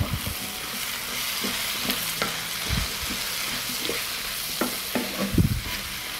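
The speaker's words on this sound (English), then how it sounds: "I fry leeks in the same fat. And mushrooms. I will stir and fry for 5 minutes." Leeks and mushrooms sizzle and fry in hot fat in a pan, a steady crackling hiss broken by repeated scraping and knocking strokes of a spoon stirring them, close and alone without talk.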